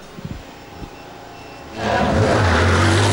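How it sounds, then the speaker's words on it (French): A few soft thumps in near-quiet, then race cars at the night-time 2001 Spa 24 Hours prologue suddenly roar up loud and sustained, with rising, whining engine tones close by. "Feu vert, les voitures sont en piste"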